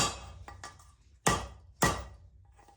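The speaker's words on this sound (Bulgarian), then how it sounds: "Слагате го така на клапана, взимате един чук и удряте." A hammer strikes a tool held on a valve of an M57 cylinder head, giving a few light taps followed by two sharp, loud metallic blows, each ringing briefly.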